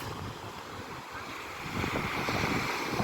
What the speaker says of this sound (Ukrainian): Та хвилі. Дивіться, які хвилі.